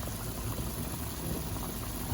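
Mung beans boiling in a pot alongside pork, a steady dense bubbling rumble heard up close and continuous, with no talking.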